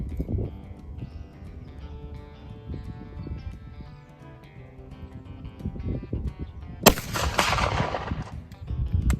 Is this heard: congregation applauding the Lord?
no